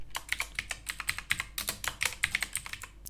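Typing on a computer keyboard while editing website text: a quick, irregular run of crisp key clicks, close and clear, with no voice over them.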